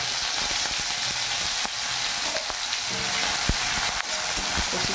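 Chopped onion sizzles steadily in hot mustard oil with a bay leaf, a dense close crackle filling the pan, broken by occasional sharp pops and light utensil taps.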